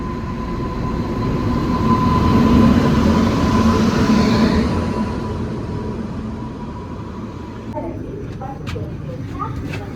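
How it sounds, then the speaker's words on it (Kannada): A train slowly pulls into a station with a loud rumbling roll and steady mechanical hum that swells then eases off, followed by quieter clatter as it settles. "ನಿಧಾನಕ್ಕೆ ಬರ್ತಾಯಿದೆ ಟ್ರೈನ್"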